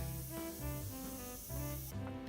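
An airbrush sprays Mission Models paint onto a scale model, a steady, close, breathy hiss running throughout alongside background music.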